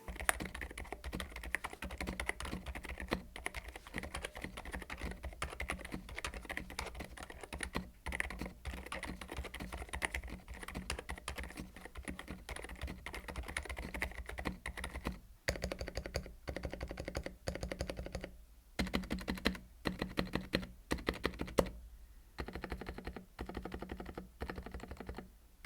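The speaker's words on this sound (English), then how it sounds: "Here's the typing test." Steady typing on a dampened keyboard fitted with silent switches, with dense foam-filled case; soft, muted keystrokes patter quietly and continuously, with faster flurries and brief pauses toward the end.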